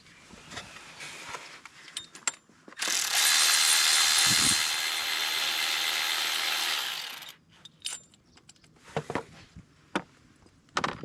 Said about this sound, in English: now we're going to remove the idler, which is going to be with a 13mm socket